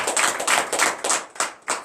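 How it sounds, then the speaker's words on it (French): A congregation clapping during a morning prayer service in Benin, a run of close, crisp hand claps in a loose rhythm with short pauses between bursts and no voices over them. "Donne l'acclamation à Jésus"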